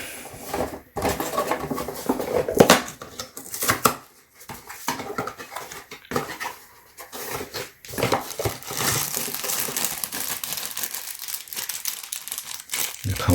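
Packaging from a universal toilet repair kit crinkles and rustles in bursts as it is unboxed, with a few faint clinks of small parts and occasional talk in between.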